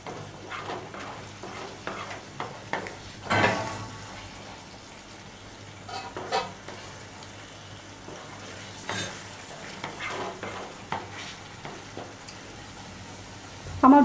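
Rohu fish with poppy seeds, Kashmiri chilli powder and slit green chillies is stirred in a pan, with a faint low sizzle broken by scattered spatula scrapes and clinks.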